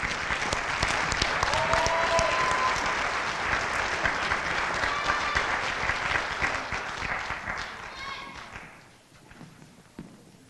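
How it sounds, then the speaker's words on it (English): Audience at a high school FFA banquet applauds proficiency award winners, a dense, sustained round of clapping with some murmuring that fades out near the end. "Let's give all of these proficiency winners a big round of applause."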